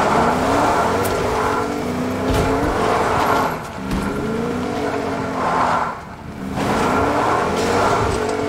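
Car engine from the Fortnite video game, revving up and down in repeated rising and falling sweeps with faint tire noise. It plays loud and steady for about eight seconds, with no talking.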